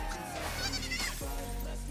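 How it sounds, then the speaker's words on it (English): Lamball, a small sheep creature in the video game Palworld, lets out a bleat, with game music and effects underneath, near and fairly loud. "Alright, new sheep."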